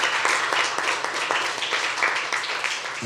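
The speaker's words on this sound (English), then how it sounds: "One more round of applause for the Scandinavia House." An audience applauding at the close of a keynote event at Scandinavia House, a moderate wash of clapping with individual claps standing out, gradually easing.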